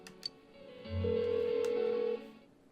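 A telephone rings unanswered in the Persona 4 Golden video game, one sustained electronic ring tone lasting a little over a second at moderate level, with quiet game ambience before and after.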